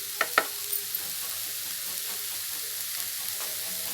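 Chopped potato frying in a pan gives a steady, even sizzle throughout, with a couple of brief stirring scrapes near the start and no talking.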